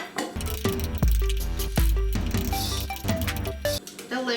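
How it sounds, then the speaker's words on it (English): Egg yolks being mashed with mayonnaise, mustard and vinegar for deviled eggs, producing soft wet squishing and a few sharper utensil knocks over a steady bed of music. "So then you want to smash it. Smash the yolks and the mayo"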